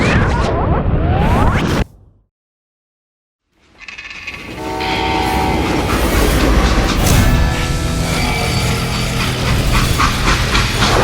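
A freight train in the Call of Juarez western game rumbles loudly along the rails, with clacking wheels and metallic squeals and a horn-like blare, drops into brief silence, then resumes as a steady rolling roar.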